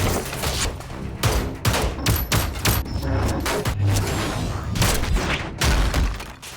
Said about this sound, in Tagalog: biglang nagpaputok si Mr. Choi at tinamaan ang gulugod ni Jayon na pansamantalang nagparalisa sa kanya.